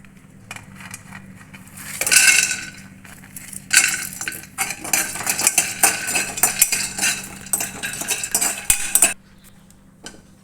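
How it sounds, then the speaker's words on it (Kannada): Peanuts roasting in a pan for drumstick-leaf chutney, stirred with a metal spoon in bursts of rattling, scraping clatter over a low background, starting and stopping abruptly. "ಶೇಂಗಾ ಹುರ್ಕೊಳ್ಳೋಣ ರೀ."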